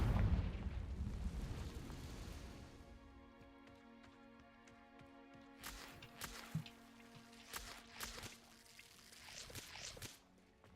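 A Confringo fire spell explodes in the video game Hogwarts Legacy, a soft rumbling burst that fades over a few seconds, followed by faint crackling and scattered light hits at low volume.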